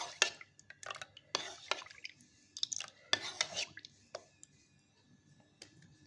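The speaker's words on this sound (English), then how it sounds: "To that I'll be adding coffee, instant coffee. Stir it well. Let it dilute absolutely." Instant coffee stirred into water: close, quiet clinks and scrapes of a spoon come in irregular bursts, with short pauses and a softer tail of occasional taps.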